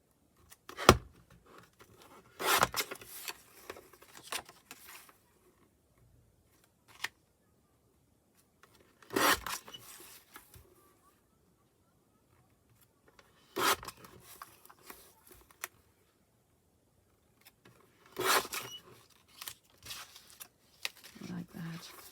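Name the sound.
cutting paper pictures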